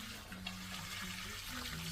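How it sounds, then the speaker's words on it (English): Water runs steadily into a cement mix during house renovation bricking work, a close, continuous pour lasting about two seconds. "Put some water, give it a mix."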